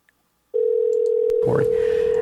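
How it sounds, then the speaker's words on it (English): A telephone line tone sounds during a call-in radio show, a single steady electronic tone starting abruptly after a short silence and holding continuously, with a brief burst of noise partway through. "Oh, phone's ringing. Somebody answer that."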